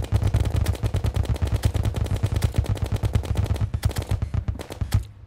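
Rapid gunfire rattles in the video game Terraria, a dense run of sharp shots that thins into scattered bursts toward the end.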